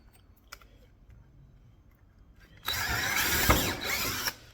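A power drill bores through the bed of a custom flatbed on a 2006 Ford F-250. After quiet handling clicks it starts abruptly and whines loud and close for about two seconds, then cuts off.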